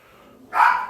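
A single dog bark rings out after a brief quiet moment, moderately loud and slightly distant in the background.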